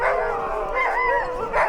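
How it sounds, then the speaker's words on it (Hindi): Husky sled dogs at a snowy sleigh-ride terminal howl and bark together in a sustained, wavering chorus, loud and close, with no talk over them. "कुत्तों का शोर मचाना शुरू हो गया।"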